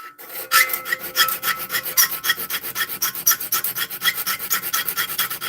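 A file sharpens a saw blade with quick, evenly spaced rasping strokes, each a bright metallic scrape heard up close in a steady rhythm, with no voices.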